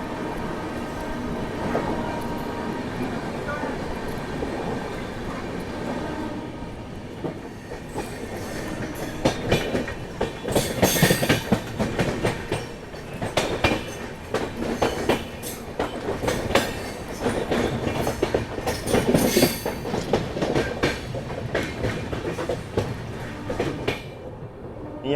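A passenger train runs on its approach into Kanpur Central station, with continuous rumbling wheel noise, clickety-clack rail joints and brief metallic squeals growing louder and busier midway through, with no talking.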